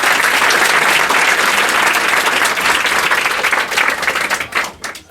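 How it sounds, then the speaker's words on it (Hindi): An audience at a school ceremony honouring students who passed 10th board exams claps loudly in a dense, sustained burst of applause that thins out and fades into scattered claps at the end. "उस पिता के नाम पे एक बार जोरदार ताली बजा दीजिए।"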